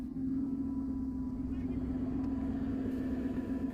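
A BMW E92 drift car's engine holds a steady, deep droning hum close by, unbroken for a few seconds, with no talk over it.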